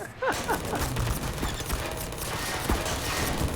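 Turret gunfire in the Half-Life 2 video game: a continuous, rapid rattle of shots under a dense wash of game noise, steady and loud for the whole stretch.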